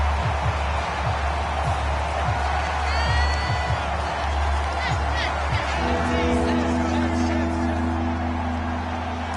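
Stadium crowd roars and cheers at fever pitch in a football video game, a dense, steady wash of noise with whoops rising over it, while a low tone comes in partway through.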